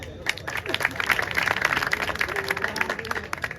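An audience claps for a couplet recited at a poetry gathering. The applause is steady and fairly dense throughout, with voices speaking over it.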